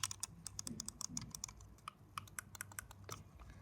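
Sharp, dry clicks from a Logitech G Pro Wireless gaming mouse, including its two side buttons, come in quick irregular bursts of close, crisp taps with no talking.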